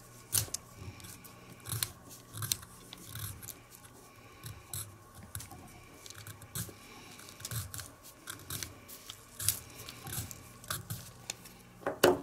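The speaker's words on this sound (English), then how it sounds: "And then just shave it with an X-Acto knife. Just shave little pieces off." An X-Acto knife shaves small pieces off lumber for model groundwork, giving a run of quiet, close scraping and snipping cuts in an uneven rhythm with no talking.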